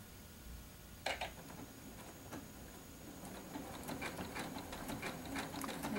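Sewing machine stitching a quilt sample piece, a quiet, steady fast needle chatter that builds after a couple of sharp clicks, close by with no talking.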